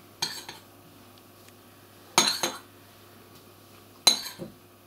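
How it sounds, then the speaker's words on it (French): Three separate clinks of a utensil against a mixing bowl as almond powder is folded gently into carrot cake batter, each a short bright tap with a soft tail, spaced about two seconds apart in a quiet room. "j'ajoute la poudre d'amande. Pareil, toujours en soulevant la masse délicatement"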